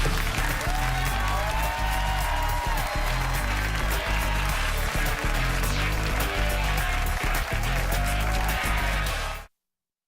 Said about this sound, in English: I was trying to hear myself think over the phony applause